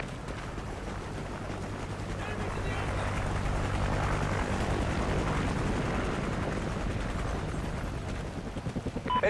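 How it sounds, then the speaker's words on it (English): A friendly helicopter in Call of Duty Ghosts, during a Domination match on the Stonehaven map, swells in as a broad rotor roar that rises, holds steady, then fades, mixed with other game noise. "Friendly chopper inbound."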